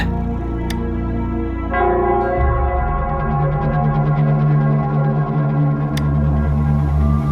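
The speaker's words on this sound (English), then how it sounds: "it's the Nell Squares bell" The Nell Squares bell in the game Wuthering Waves tolls in deep, ringing strokes, with long resonant tails blending into an echoing, swelling background tone.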